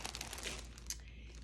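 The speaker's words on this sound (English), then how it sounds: "there is going to be some crinkling because everything is in plastic" Plastic packaging around a skein of Nordica self-patterning yarn in olive crinkles and crackles up close, a quiet run of short rustling bursts with no talking.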